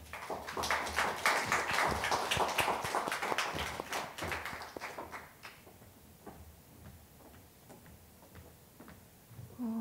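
Audience applause at a literary award ceremony, a dense wash of clapping for the first half that thins out and fades into scattered claps and room noise.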